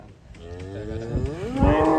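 Belgian Blue cattle kept as sacrificial animals on a farm moo loudly and close by, a drawn-out bellow that swells and grows rougher toward the end, with no one talking.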